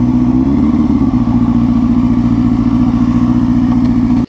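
A motorcycle engine idles loudly and steadily up close, a low throbbing rumble that holds even before cutting off abruptly at the end.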